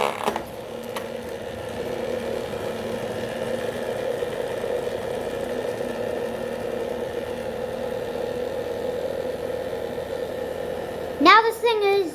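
Homemade mini portable ice air cooler fan running steadily nearby, a constant humming drone with a mechanical rattle throughout, and a voice briefly at the end.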